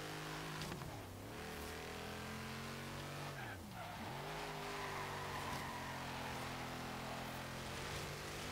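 A 1968 Dodge Dart Hemi Super Stock in the Forza video game, driven on an autocross course, revs hard through rising and falling gear sweeps with tire squeal, steady and fairly close, with faint talk underneath.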